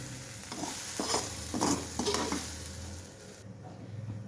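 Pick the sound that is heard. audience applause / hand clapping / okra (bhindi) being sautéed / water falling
okra (bhindi) being sautéed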